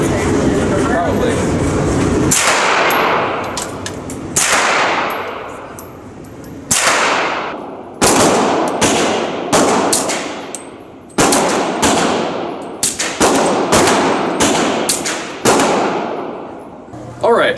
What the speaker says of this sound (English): this right here is an M249 SAW